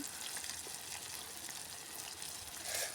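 Pieces of fish fry in hot oil in a village kitchen, giving a steady close crackling sizzle with fine popping, fairly faint and continuous, with no voices.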